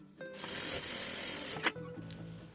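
Electric sewing machine running a straight seam to attach the lining of a fabric box pouch, a steady close whirring burst that stops with a short clack, then quiet handling.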